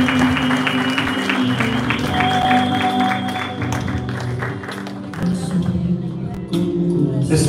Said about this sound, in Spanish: Vamos a darle un fuerte aplauso al Espíritu Santo.